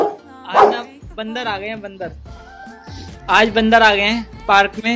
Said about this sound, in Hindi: तो ये दोनों भौंक रहे हैं.